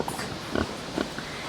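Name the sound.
pigs on a farm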